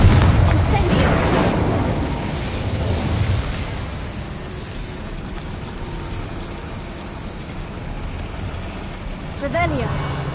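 Confringo and Incendio spells cast in a Harry Potter wizarding video game, a loud fiery burst with crackling booms at the start, then a sustained rumbling roar, with a rising magical swish near the end.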